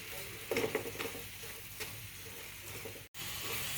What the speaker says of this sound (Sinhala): සීනි ටික දිය වෙලා එන තෙත ගතිය වියලිලා ගිහිල්ලා හොඳට මේකේ පදම එනකම්ම මේක විනාඩි 10ක් වගේ කාලයක් හොඳට හැඳි ගන්න ඕන